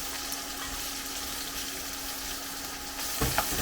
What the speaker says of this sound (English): now we're going to go in with our prawns, and you'll see how quickly these start to colour